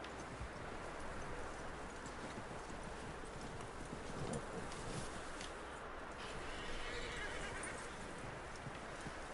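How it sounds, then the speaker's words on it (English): A horse in the open-world video game Red Dead Redemption 2 clip-clops and whinnies faintly under steady background ambience, with a continuous low texture of hooves and game sound. "That looks like a decent horse"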